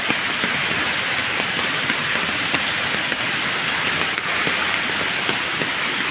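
Strong rushing water in bad weather, a loud, continuous roaring wash that stays dense and unbroken throughout, close and dominant with no voices.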